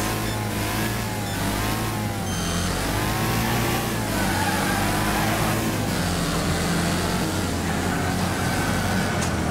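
Racing car engines rev hard at the start of a Wreckfest race, a dense continuous roar of several motors rising and falling in pitch and staying loud throughout.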